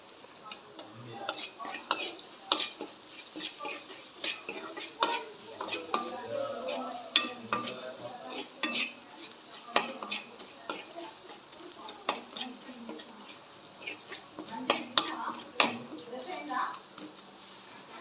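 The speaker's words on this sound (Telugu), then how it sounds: "పోపులోకి పసుపు కూడా వేసుకొని బాగా దూరగా వేయించుకోవాలి" Spices tempering in hot oil with salt and turmeric while being stirred, a light sizzle under repeated spoon clinks and scrapes against the pan; a voice talks throughout.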